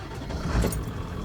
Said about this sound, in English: start the truck up